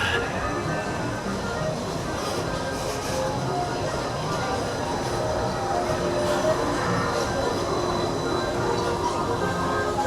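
Disneyland's monorail rolls along with a steady, continuous rumble and hum from inside the car, a faint tonal whine riding over the constant noise, and voices are faintly present beneath it.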